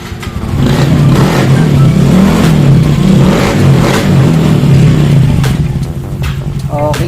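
A Yamaha Mio i 125 scooter engine that had lost compression fires up and revs hard and steadily close by, a loud continuous drone easing slightly near the end.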